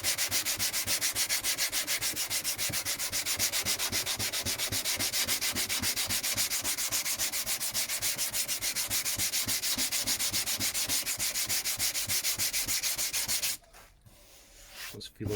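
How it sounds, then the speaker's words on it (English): Rough paint on a car's rear wheel arch is sanded back by hand, a loud, steady rhythmic rasping of quick strokes close to the mic for most of the time, stopping abruptly near the end. "rub it back a little bit so it's nice and smooth like that"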